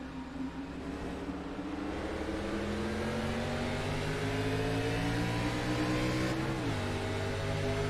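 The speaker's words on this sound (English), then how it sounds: "The sound of the car is just different" An ARCA Pro Series race car engine in a racing game, a steady, loud droning whine held at high revs with layered harmonic tones that dip briefly as the pitch shifts, continuing without talk.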